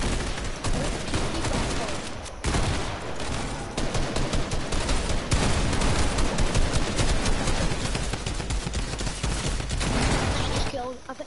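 Rifle gunfire in a video game rattles in loud, rapid bursts and near-continuous volleys, with short breaks between strings of shots, while a player talks over the shooting.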